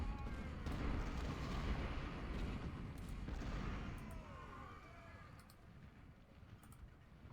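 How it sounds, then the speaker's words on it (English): Artillery fire in the Civil War strategy game Ultimate General: Civil War, a muffled low rumble of distant cannon booms at steady loudness, fading slightly toward the end, with faint voices beneath. "So my artillery can start firing."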